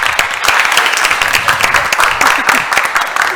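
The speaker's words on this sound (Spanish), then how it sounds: "Quiero que le den un fuerte aplauso a Gustavo López." A studio audience claps loudly in sustained applause for a guest joining a talk show panel, dense hand claps filling the room without pause.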